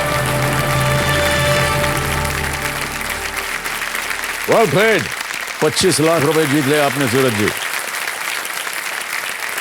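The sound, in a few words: studio audience applause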